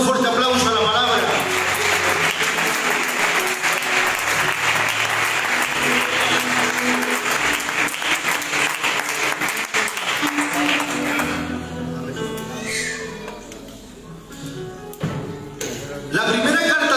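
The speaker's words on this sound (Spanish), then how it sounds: "Podemos dar un fuerte aplauso a la palabra." Audience applause fills a church after a sermon reading, steady dense clapping for about eleven seconds that then thins out and tapers, with some voices and faint taps as it fades.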